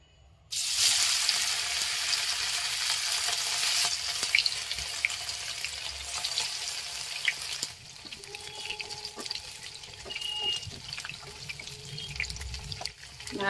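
Cornflour-coated paneer pieces fry in hot oil with a steady, close sizzle that starts abruptly. The sizzle continues with faint crackles and pops as it gradually settles lower.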